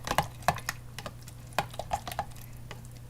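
A spoon mixes sour cream with grated cheese and olive oil in a bowl, giving soft, irregular stirring scrapes and a few sharper clinks against the dish, close by with no talking.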